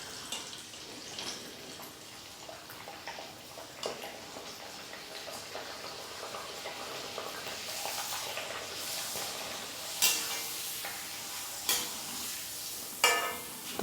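Rice flour papad frying in hot oil in a kadhai, a soft steady sizzle with occasional stirring clicks and taps growing sharper toward the end, no talk.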